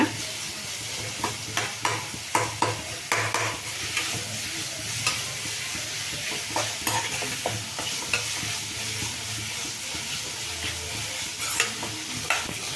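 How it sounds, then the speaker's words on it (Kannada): Brinjal and tomato curry frying in a pan is stirred steadily, with a string of quick scraping clinks from the spoon over a constant, fairly loud sizzle, close by and without talk. "ಸ್ವಲ್ಪ ಕೈ ಆಡಿಸ್ತಾ ಇರೋಣ"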